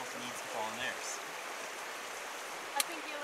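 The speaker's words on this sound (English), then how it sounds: "It's one of the many upland freshwater streams in North" A freshwater stream in an upland rainforest in the north flows with a steady, gentle rushing wash, while someone talks briefly at the start over the water.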